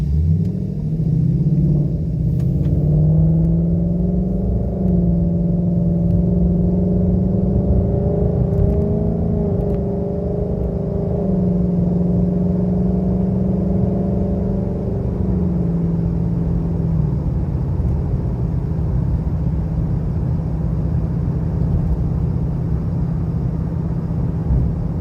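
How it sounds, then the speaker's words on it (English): Cabin noise inside a 2019 Mustang GT with an H-pipe exhaust at highway speed in normal mode: a loud, steady low engine and exhaust drone with road rumble, a tone that rises and holds then settles, no voices. "this is normal mode cabin noise with the H-pipe exhaust"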